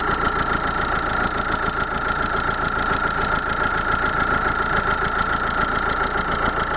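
A car engine idles steadily up close, a constant low rumble with an even hum and no change in speed, with the air conditioning not working.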